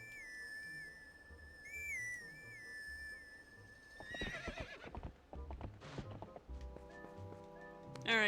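In Zelda: Twilight Princess, a horse gives a whinny alongside clip-clopping hooves and bright whistle-like game tones, followed by a busier burst of in-game effects, all moderately loud with no talking.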